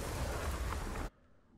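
Rocket League goal explosion effect from a Rocket Pass 4 item, a loud broadband blast with a dusty cloud theme, lasting about a second before cutting off to quiet.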